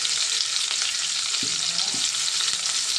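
Onions frying in oil with curry leaves in a kadai, a loud, steady close sizzle with a couple of soft spoon scrapes in the middle.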